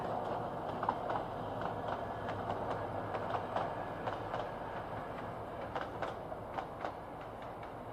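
A suburban diesel passenger train, number 6441 on the Kolomyia to Dilove line in the Carpathians, rolls along the rails with steady rumble and regular clickety-clack wheel beats, heard at a moderate distance.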